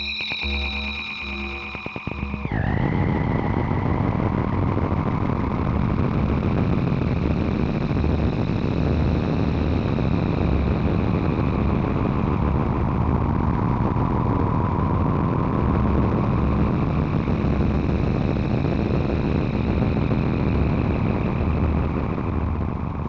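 A noisy synth layer from a Pico VCO, run hard through a moving filter and crushed delay, makes a dense, steady wash of distorted, echoing tones that hold loud and unbroken throughout after a brief choppy opening.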